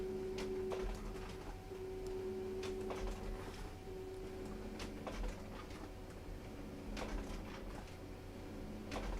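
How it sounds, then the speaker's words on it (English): A home printer runs through pages, its steady mechanical hum broken by repeated clicks and ticks of paper feeding, close and quiet with no talk. "Oh, don't you love it when your printer works?"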